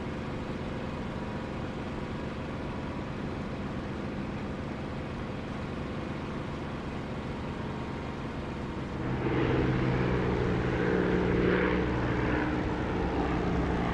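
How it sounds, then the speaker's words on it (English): A Spitfire's piston engine in the DCS flight simulator drones steadily for the whole stretch, then swells louder partway through as the tone rises and roughens. "I'm using the engine for the spit, the engine sound produced by Echo 19."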